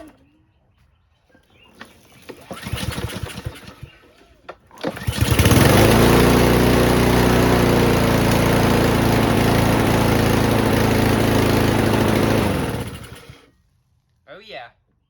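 A lawn mower engine is pulled a few times, then fires and roars into a loud, steady running drone close by for about seven seconds before cutting off.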